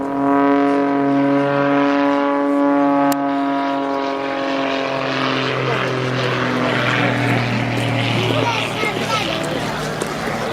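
A light aircraft performs aerobatics at an air show, its propeller engine droning with a steady, shifting pitch as a commentator talks over the sound throughout.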